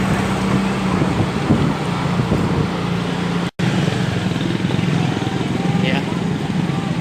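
Riding a motorcycle on a shopping trip: a continuous low engine drone mixed with heavy wind buffeting on the microphone, close and loud, with a brief dropout midway.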